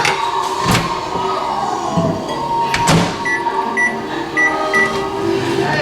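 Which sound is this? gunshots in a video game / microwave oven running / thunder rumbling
microwave oven running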